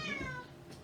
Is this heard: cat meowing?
yes